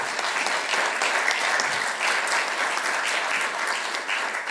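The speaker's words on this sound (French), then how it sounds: "merci de les applaudir effectivement" An audience at a mental health study presentation in Ille-et-Vilaine, Brittany, claps in sustained, dense applause that holds steady throughout, with no talking.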